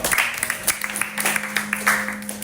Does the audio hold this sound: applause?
yes